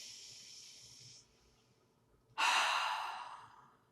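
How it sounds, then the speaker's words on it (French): Breathing during a yoga session: a long, soft nasal inhale, a quiet pause, then a louder, rushing breath that fades away gradually, close and alone. "On inspire par le nez."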